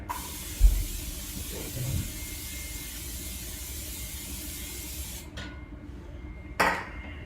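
A long steady hiss of cooking spray into a pan, stopping abruptly, followed by a brief clatter of cookware.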